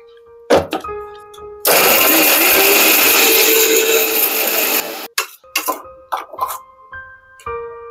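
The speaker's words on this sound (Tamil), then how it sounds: "எல்லாத்தையும் அரைச்சிடும்" A mixer grinder runs for about three seconds, grinding turmeric powder, cumin and fennel seeds into a paste, a loud steady whirring roar. Short clatters and knocks come before and after it as the jar is handled.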